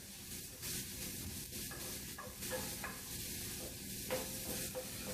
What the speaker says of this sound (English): we're going to start with the onions. Let it saute a little bit.